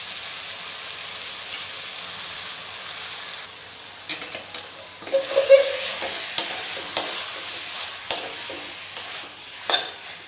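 Bhaji greens cook in a pan over a low flame, giving a soft steady sizzle with a run of distinct scraping stir strokes in the second half, close and moderately loud.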